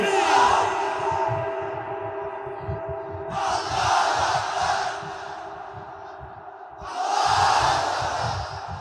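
A large gathered crowd at a Bangla religious sermon roars takbir, Allahu Akbar, in three loud swelling chants answering a call, each a few seconds long with brief pauses between, over a steady hum.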